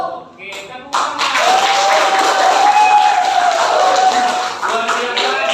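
Classroom students burst into a continuous round of hand clapping that lasts several seconds and fades slightly at the end, with a voice heard through the applause.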